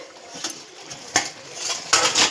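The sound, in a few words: lid of cooking pot being opened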